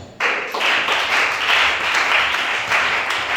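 A church congregation claps together during a worship service, a loud steady roar of applause that starts abruptly and keeps going with rhythmic pulses of many hands, with no talk.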